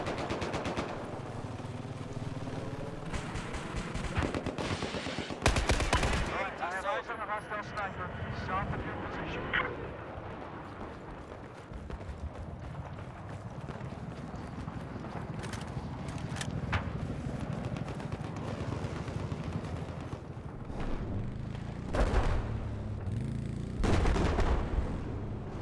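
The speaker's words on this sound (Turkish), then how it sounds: "Sürekli karşılıklı birbirimizi vuruyoruz." Gunfire in the video game Battlefield 4: bursts of machine-gun fire and louder shots with booming blasts amid continuous battle noise, fairly loud, with a voice talking over parts of it.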